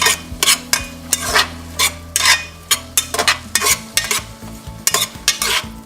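Oil sizzles in a pot while cooking curry lentils, with repeated scraping stirs and utensil clatter over a steady low hum, close and fairly loud, no talk.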